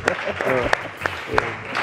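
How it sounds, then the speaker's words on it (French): Studio audience applauding a guest, a French political scientist and journalist, on a talk show; clapping runs steadily with some sharp individual claps, and voices are heard over it. "j'aimerais qu'on applaudisse pour notre invité"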